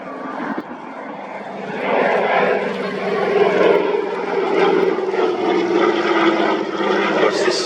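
A propeller airplane flies overhead at the Midlands Air Festival, its engine drone loud and steady, swelling as it passes close by while a commentator talks over it.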